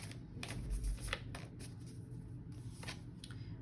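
Tarot cards are shuffled by hand in a few soft, quick riffling bursts close to the microphone, with a faint background hum and no talking.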